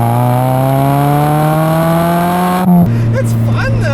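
A 2005 Chevy Cobalt SS Supercharged accelerating hard, its engine note climbing steadily and loudly close up, then dropping sharply at a gear change before pulling again with a deeper tone.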